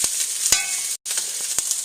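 Leftover rice with vegetables and lamb sizzling in a hot pan, a steady bright hiss broken by a few sharp stirring scrapes and one brief dropout.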